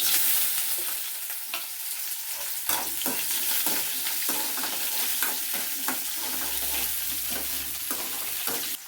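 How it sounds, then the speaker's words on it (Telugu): Mustard seeds, chana dal, urad dal, cumin and onion fry in hot oil, a continuous bright sizzle broken by repeated scraping stirs of a spoon in the pan, with no voices. "ఆయిల్ అయితే పోసుకుంటున్నా ఆవాలు పచ్చనగపప్పు మినప్పప్పు జీలకర్ర ఎర్రగడ్డ పొలకలు"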